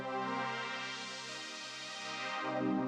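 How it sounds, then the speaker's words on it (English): A pure synth pad with all effects bypassed holds a steady, rich sustained chord, continuous and even in level throughout with no other sounds. "So I press bypass and you hear the pure pad sound"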